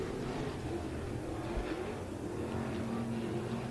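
Stock cars in a heat race on an off-road dirt speedway, a continuous distant engine drone with a faint rising and falling roar as the field circles the track.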